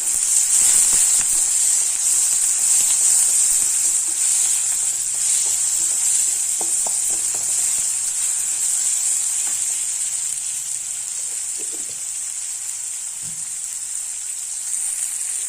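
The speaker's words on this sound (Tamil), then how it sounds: "நல்லா வதங்கட்டும் லைட்டாக உப்பு சேர்த்துக்கிறேன் சீக்கிரம் வதங்கிடும் வெங்காயம்" Onions and tomatoes sautéing with salt in a pan for a Maharashtrian dahi palak side dish, a steady close hissing sizzle with occasional faint stirring taps and no voices.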